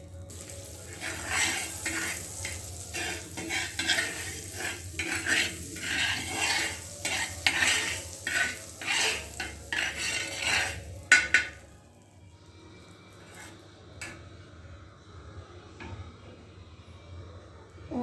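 Butter sizzles and crackles in a hot pan for an omelette, with bursts of stirring and utensil scrapes for about eleven seconds before the frying settles into a quieter, fainter hiss.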